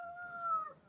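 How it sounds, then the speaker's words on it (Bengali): A rooster crows once on a chilly early morning in the hills near Darjeeling, a clear sustained call that holds steady then trails off, fairly near and alone without talk. "মুরগি ডাকছে"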